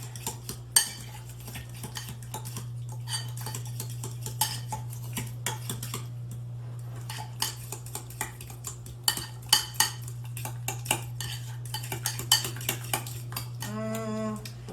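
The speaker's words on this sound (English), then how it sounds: "Let's see if we can just use a fork to combine all this together." A fork whisks homemade salad dressing in a bowl, with steady rapid clinking and scraping against the dish throughout, then a brief sharper sound at the end; no talking.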